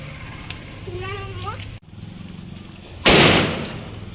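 A voice chatters, then a single sharp bang goes off, followed by a loud crackling burst of firecrackers nearby during Diwali.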